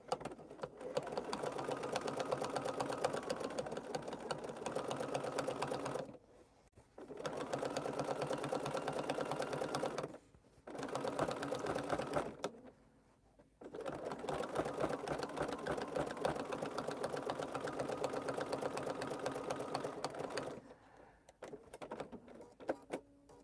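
Sewing machine stitching a seam on a quilted fabric bowl, a loud continuous whirring run in several long bursts broken by brief pauses, close up and alone.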